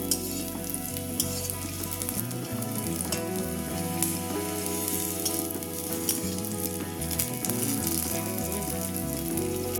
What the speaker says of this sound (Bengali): দেখো, আমার রসুন আর লঙ্কাটা কিন্তু প্রায় ভাজা হয়েই গেছে